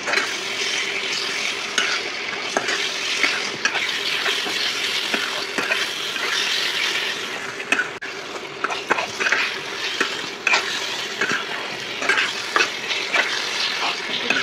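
Potatoes fry in spice masala with a splash of water for a Bengali katla fish curry, a steady close sizzle broken by repeated spatula scrapes and light pan knocks, no voices.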